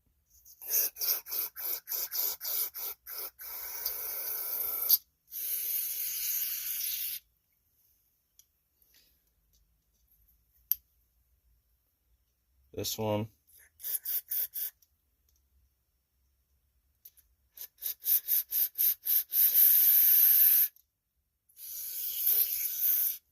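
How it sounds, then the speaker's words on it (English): Cleaner sprayed in repeated short hissing bursts into the carburetor of a Powerstroke 414 cc generator engine, close and loud, with quiet pauses and a faint click between the spray runs. "We want to spray in every little hole that this carburetor's got."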